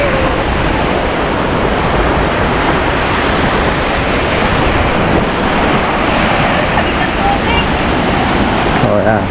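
Sea surf washing onto a beach at low tide in summer, a steady broadband roar with gusty wind buffeting the microphone throughout, loud and continuous.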